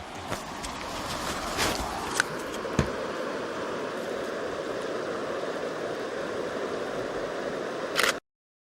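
A few sharp mechanical camera shutter clicks over a steady rushing sound of flowing water in an Irish village. The last click is crisp and close, right before sudden silence.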